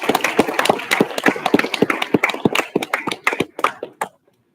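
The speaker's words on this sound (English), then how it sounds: "Let's give the devs a round of applause." Audience applause at a tech hackathon final showcase, honoring the developers: a dense burst of many hands clapping, fairly close and loud, thinning into a few scattered claps before stopping abruptly near the end.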